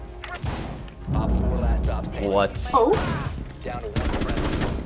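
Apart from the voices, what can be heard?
gunfire in the video game Rainbow Six Siege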